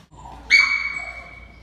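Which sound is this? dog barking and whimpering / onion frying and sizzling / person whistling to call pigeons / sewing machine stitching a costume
dog barking and whimpering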